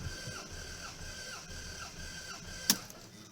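A Toyota Camry engine cranks over with a compression tester fitted in a cylinder during spark plug work: a steady, rhythmic mechanical whir pulsing about twice a second, ending with one sharp click.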